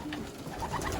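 Young racing pigeons coo continuously in a loft, a close, steady murmur of soft overlapping calls.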